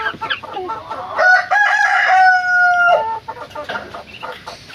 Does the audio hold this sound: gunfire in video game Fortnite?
no